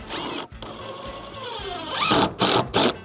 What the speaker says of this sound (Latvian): Šeit mums ir līdz ar latojumu un skrūvējam